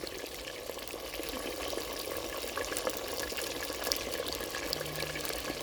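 A piece of steak is dropped into hot deep-fryer oil at a cabin, giving a steady, close bubbling sizzle that stays even and continuous, with no talk over it.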